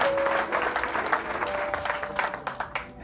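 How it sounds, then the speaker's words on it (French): Congregation applauding during a young women's thanksgiving church service, dense continuous clapping from many hands that stays full throughout, with a faint sustained tone underneath. "ça s'applaudit quand même"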